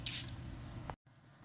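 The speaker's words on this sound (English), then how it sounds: "I almost forgot setting spray" A short hiss of makeup setting spray misted at close range, a soft burst at the start followed by a faint rustle and a small click before it cuts to near silence.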